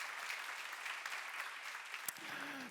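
A church congregation applauds during a Korean Bible class sermon, a steady wash of many hands clapping at moderate distance, quiet overall, with a brief sharp knock and a short voiced sound near the end.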